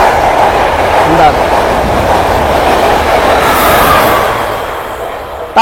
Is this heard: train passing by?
yes